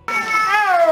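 A snow leopard gives a single short, plaintive meow, a clear cat-like cry that slides downward in pitch and lasts about a second, close and alone.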